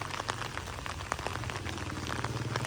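Morning rain falls outside a small roadside shop, a dense, steady patter of drops on surfaces that stays close and even throughout, with a low rumble underneath.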